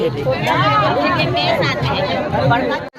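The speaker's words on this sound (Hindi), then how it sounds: "कितना भीड़" Dense crowd chatter and hubbub at a Chhattisgarhi village fair, a continuous close babble of many voices with no pauses.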